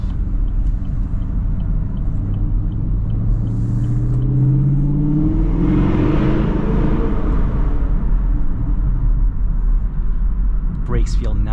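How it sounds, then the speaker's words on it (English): A 2022 Chevrolet Camaro V8 rumbles while being driven, its deep exhaust tone rising as the engine revs up mid-clip and settling back, steady road drone throughout with a brief sharp sound near the end. "This exhaust just sounds honestly amazing"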